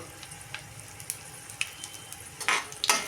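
Green chillies, curry leaves, crushed pepper and asafoetida crackle in hot oil in a pan, with soft pops and a growing sizzle that swells into louder bursts toward the end.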